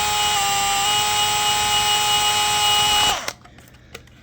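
A power drill steadily boring a hole through an RC crawler buggy body panel, a loud continuous whine for about three seconds before cutting off abruptly, leaving faint handling noises.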